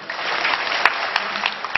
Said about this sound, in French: Ça s'applaudit, ça.